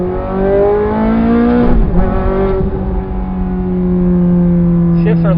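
Ferrari F430 with a loud Fabspeed aftermarket exhaust revving hard in race mode, close and loud, engine pitch climbing then dropping through quick shifts and climbing again.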